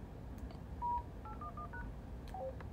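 Short burst of DTMF keypad tones sent at the beginning of a transmission from a Wouxun KG-UV9GX handheld two-way radio, several quick beeps heard faintly over a steady background hiss.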